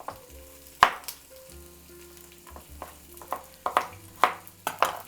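Carrots, garlic cloves, thyme and rosemary sizzle and fry in a pot, with steady crackling under scattered sharp clacks and scrapes of a utensil stirring against the metal, close and moderately loud, no talk.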